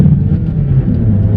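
A Toyota Corolla Quest with a 1.6 litre engine being revved, a loud, close engine drone with a brief swell and settle, heard from inside the car without talking.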